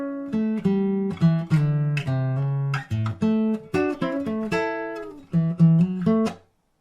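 Fingerpicked blues guitar phrase in A with plucked bass notes and chords in a steady, relaxed rhythm, played solo and clearly close up.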